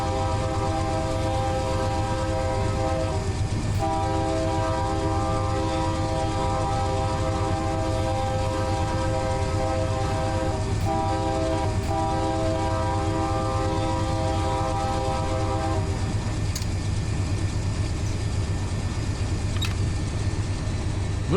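Train in the Run 8 train simulator game rolling steadily with a constant low rumble, while the horn sounds in long sustained blasts that cut off briefly and then resume.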